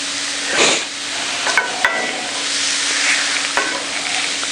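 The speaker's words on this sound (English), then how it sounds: "Give them a second to kind of sear off real nice in that cast iron pan" Shrimp sear over medium heat in a cast iron pan, a loud, steady hissing sizzle with occasional sharp metallic taps and clicks of a utensil against the pan, close up and without talk.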